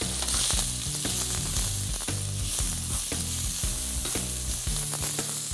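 Seasoned ingredients fry and sizzle loudly in a pan with very little oil, dusted with Montreal seasoning and stirred with regular scraping strokes throughout, up close with no talking.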